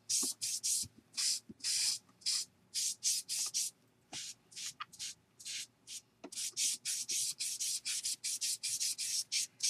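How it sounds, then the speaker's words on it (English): A brush spreads wood sealer across a wood surface in quick, repeated scratchy strokes, close and dry-sounding, in an irregular rhythm with brief pauses between strokes. "my brush into the wood sealer and apply to the surface."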